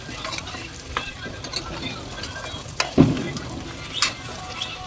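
Goat trotters frying in oil in a pan, stirred with several sharp scraping knocks of a spoon over a continuous low sizzle.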